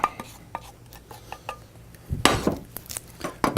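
Caramel popcorn is stirred in a pot, with scattered scraping clatters of a utensil against the pot that turn into a louder, busier burst of rustling popcorn toward the end.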